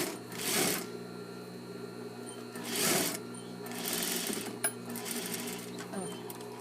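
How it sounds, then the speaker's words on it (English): Sewing machine joining the shoulder seams of a shirt-dress, several short bursts of rapid whirring stitching that start and stop, with quieter handling noises between them. "I'm joining my shoulder seams"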